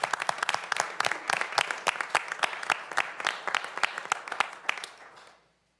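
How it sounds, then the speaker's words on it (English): At a common council meeting, a smallish audience gives a round of applause: distinct, fairly close hand claps in a busy rhythm that carry on for about five seconds before stopping abruptly. "Let's give them another round of applause, everybody."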